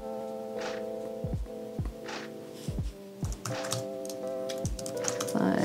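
Someone types on a computer keyboard connected to an Apple Vision Pro, with a few spaced key taps and thunks heard over a steady electronic hum and soft music, with no talk.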